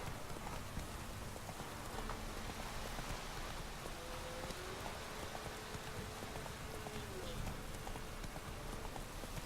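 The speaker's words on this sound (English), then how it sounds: "It's even raining." Rain falls steadily in The Witcher 3: Wild Hunt as a horse's hooves clip-clop along beneath it, a continuous wash of droplets over a faint musical tone.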